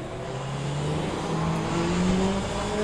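Race car engine in the Le Mans Ultimate racing game, revving steadily upward through the gears with a rising, droning tone, loud and close, with no voices over it.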